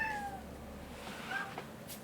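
A cat meows loudly outside a door, letting out a couple of drawn-out, wavering cries, faint and slightly distant over quiet room tone, with no one talking.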